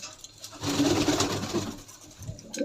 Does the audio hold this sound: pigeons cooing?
yes